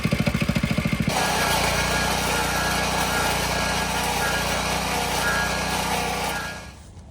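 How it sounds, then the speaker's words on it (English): A stump grinder chips away at a tree stump, its small engine roaring steadily at high load after a brief idling start, grinding continuously and loudly for several seconds before easing off at the end. "So that's a stump grinder, and that's how you use it. We're gonna just keep chipping away at it."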